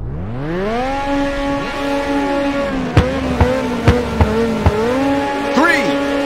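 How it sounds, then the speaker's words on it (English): Race car engines rev steadily at the starting line in the Ridge Racer PSP video game, a loud sustained drone with rising and falling pitch, sharp clicks and a brief tire squeal near the end. "Now start your engines and get ready."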